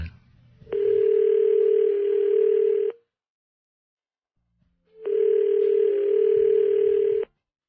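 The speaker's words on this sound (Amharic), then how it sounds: "ስልኩ ተንጫረረ።" Two long electronic telephone ring bursts separated by a pause of silence, clear and loud like a phone ringing tone.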